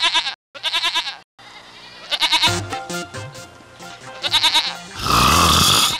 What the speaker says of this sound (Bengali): এই ছাগলগুলো এরকম চিৎকার করছে কেন?